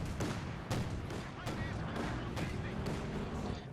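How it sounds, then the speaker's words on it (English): Mortar fire in the Company of Heroes 2 war game, with a series of sharp, evenly spaced thumps and blasts over a constant rumble of battle, fairly quiet in the mix. "Quick mortar hit there from Redxwings Kanartenwerfer."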